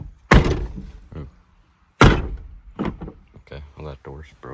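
Old Ford F-150 4x2 pickup door in a junkyard slamming shut twice with heavy metallic thunks, each followed by someone talking nearby.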